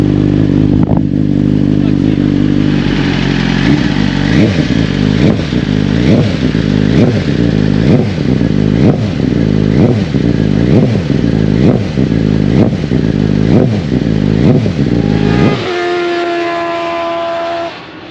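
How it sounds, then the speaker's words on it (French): Vintage motorcycle engine revving near at the Nogaro circuit, loud rhythmic pulses of throttle surging and falling in a steady repeated pattern, then dropping away to a lower idle near the end. "Là c'est les VMA, donc c'est une moto ancienne"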